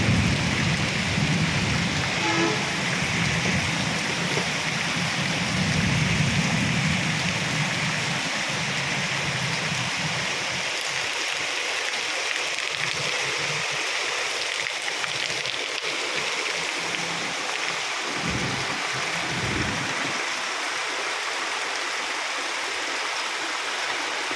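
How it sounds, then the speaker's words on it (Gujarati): Heavy rain with thunder in Khambhaliya village, a dense continuous roar of downpour with low rumbling thunder in the first half, then a slightly thinner steady pour, no voices. "ગાજવીજ સાથે વરસાદ."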